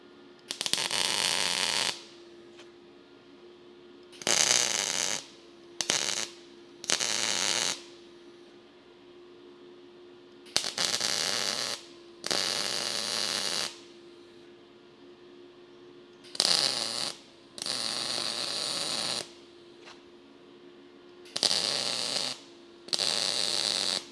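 Welding a rusty car door skin: about ten crackling, hissing bursts of one to two seconds each, separated by short pauses over a steady low electrical hum, close and fairly loud with no talking.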